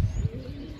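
Soft, low cooing of a pigeon, a couple of throaty pulses close by with no talking.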